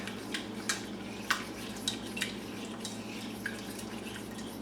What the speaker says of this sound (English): this whisk just gets the lumps out